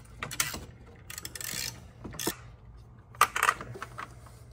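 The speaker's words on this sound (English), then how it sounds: "take a 13 millimeter, doesn't matter if you have a long ratchet or a short ratchet" A 13 mm ratchet clicks in short bursts while undoing the top turbo bolts on a Ford Mustang EcoBoost S550 engine, close and fairly quiet, with a few scattered metallic taps and no talking.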